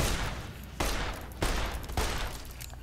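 Gunshots in Fallout: New Vegas, three loud, sharp single shots spaced roughly half a second apart, each with a short decaying tail over low ambient hum, no talking.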